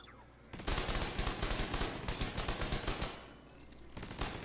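Regular turret firing in The Division 2, a loud, steady rapid burst of automatic gunfire lasting a few seconds, then a short pause before firing resumes.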